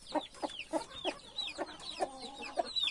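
A hen clucks near her chicks in a rhythmic series of short, close clucks, roughly two per second, with thin high peeps from the chicks mixed in.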